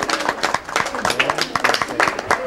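A group claps and applauds at the inauguration of a three-classroom school building in Caserío Tuixcum, Tajumulco, a close, irregular patter of many hands with voices talking underneath.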